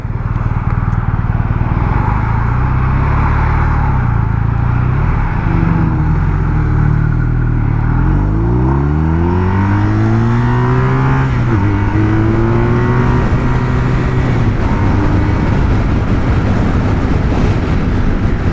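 BMW R1250 RT motorcycle (2022) engine revving under throttle, loud and close, rising in pitch through sweeping acceleration runs over a steady rumbling drone.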